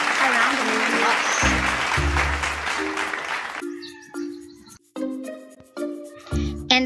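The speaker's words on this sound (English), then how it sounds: "you deserve a round of applause" A third-grade class gives a round of applause during a lesson, a burst of clapping mixed with a voice and chime-like musical tones, giving way to choppy speech and bright sound effects.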